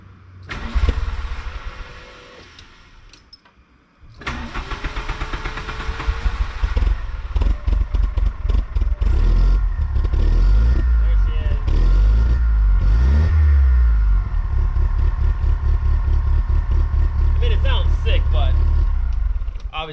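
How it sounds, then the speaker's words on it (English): A Volkswagen Corrado running poorly: the starter cranks, the engine catches and stumbles, then idles roughly and is blipped in uneven revs, close and loud, with someone talking over it at times. "Give you guys one more sound clip of how the Corrado sounds now."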